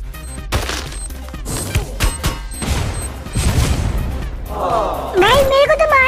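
A grenade blast in a battle royale game booms among scattered gunshots and impacts, loud and close, while a voice talks over the action.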